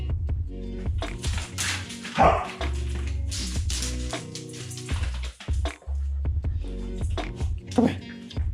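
A dog barking in a garage, with car-repair talk nearby: repeated yips, barks and whimpers in quick bursts, fairly close, mixed with a voice.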